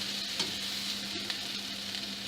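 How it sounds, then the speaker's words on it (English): Onions, peppers and garlic sauté in a pan with a constant close hiss, broken by a few soft stirring scrapes, and no voices. "you want that flavor, sauteed onions and peppers"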